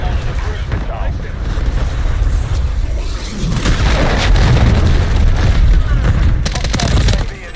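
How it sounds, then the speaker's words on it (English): A cruise missile blast in Modern Warfare 3 swells into a loud, sustained rumbling boom from about 3.5 s, layered over ongoing gunfire and game chatter, with a sharp crack near 6.5 s. "Hostiles launched a cruise missile."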